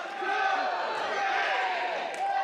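A wrestling arena crowd chants in unison during a pinfall count at a New York Championship Wrestling show, a loud, sustained roar of many voices with rising and falling tones.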